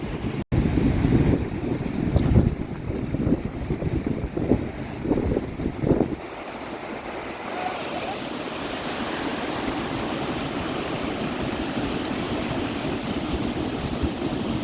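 Stormy sea pounding the shore with strong wind buffeting the microphone, making a loud, continuous roar of waves and gusts that turns steadier and more hissing in the second half, with no talk.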